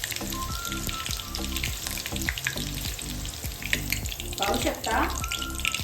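Green chilies fry in hot oil until crisp for a farali chivda, a steady bright sizzle running throughout beneath a speaking voice and a rhythmic, thumping backing beat.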